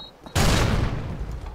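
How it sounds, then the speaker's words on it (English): In Modern Warfare 2, a flashbang grenade goes off with a sudden loud bang after a brief quiet, followed by a ringing, decaying blast tail that lingers to the end. "throw your flashbang in."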